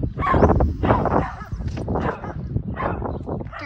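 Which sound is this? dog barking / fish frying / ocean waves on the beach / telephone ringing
dog barking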